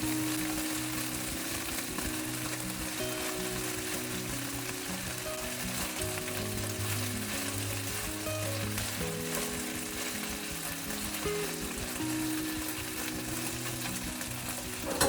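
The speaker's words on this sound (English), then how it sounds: "Continue to fry." Chicken thigh frying in a pan with a little oil, a steady, dense sizzle running continuously at even loudness from start to finish, with faint stirring or utensil noises mixed in.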